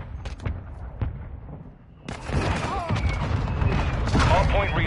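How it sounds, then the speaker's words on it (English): Mortar strike explosions in Call of Duty Warzone 2: several heavy booms and sharp blasts at first, then a denser rumble of impacts and gunfire with a faint voice mixed in underneath. "Our mortar strike is inbound."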